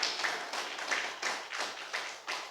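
A church congregation claps in a steady rhythm of about five or six spaced bursts of many hands, moderately faint and with a roomy sound, with no talking.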